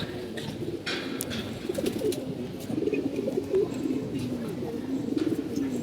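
Many pigeons coo together in a continuous, overlapping low murmur, heard up close and fairly loud, with no talk.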